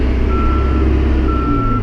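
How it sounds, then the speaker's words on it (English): A backhoe's reversing alarm beeps steadily over the loud, rumbling diesel engine, repeated high-pitched tones sounding close by. "when I go in reverse. Beep, beep, beep."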